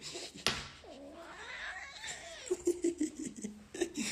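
A cat meows and caterwauls in drawn-out, rising and falling cries, then gives a series of short, close, loud yowls while someone plays with it.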